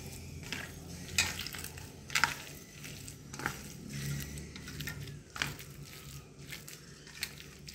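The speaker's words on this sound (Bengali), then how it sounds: "এগুলো জল ঝরা এঁচোড়টা আমি ভালো করে হাত দিয়ে মিক্স করে নিচ্ছি, আলুটাও এর সাথে মিক্স করে নিচ্ছি" Drained young jackfruit and potato are squished and mashed together by hand for achorer chop, soft wet squelches and crushing noises in an irregular rhythm, close and fairly quiet.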